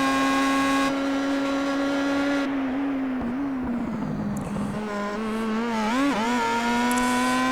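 A Star Mazda race car in iRacing at Zolder drops to fourth gear and goes flat out, its engine whine climbing steadily, dipping briefly through a shift, then wavering as it revs again, loud and close throughout.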